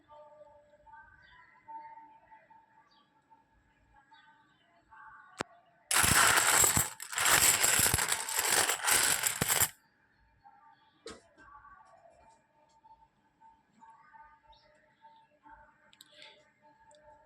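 A mixed batch of Indian one-rupee and two-rupee coins is stirred and shuffled by hand, a loud burst of dense metallic jingling and clinking for about four seconds amid otherwise quiet room noise.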